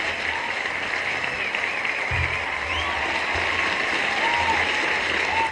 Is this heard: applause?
yes